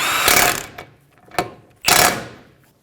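A nut is snugged onto the outer tie rod at the front knuckle of a 2003-2008 Honda Pilot, heard as two loud bursts of tool noise with a short metallic clack between, close and without talk.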